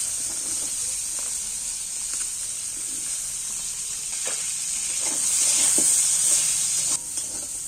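Green beans and carrots fry in the leftover oil of a pan, giving a continuous crackling sizzle with a few stirring knocks; the hiss grows louder and denser toward the end.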